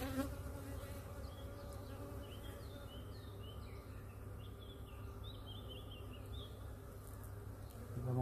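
Dense, steady buzzing of many bees at an open hive, a continuous close drone throughout with faint higher chirps above.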